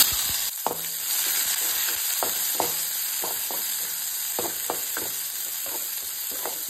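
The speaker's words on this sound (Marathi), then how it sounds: "जिरे सासवाची जी नॉर्मल फोडणी असता पण ती फोडणी घातल्या हांगा कढीपत्ता बी घालून." Cumin and mustard seeds with curry leaves sizzle in hot oil, a dense, continuous close-up hiss punctuated by repeated light taps and pops of a spoon against the pan, with no voices.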